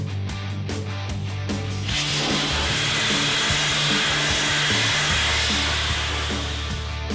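A Dustless Blaster strips paint from the outside of a concrete mixer caked with hard mortar, a steady loud hissing roar that starts abruptly after a short lower mechanical hum and runs continuously to the end.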